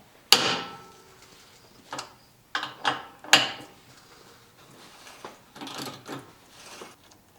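A 5/8 inch bolt holding the bottom of a Jeep grille to the frame is worked loose with a ratcheting wrench, giving several short metallic clicks and clunks in separate bursts, close up and moderately loud, with no talk.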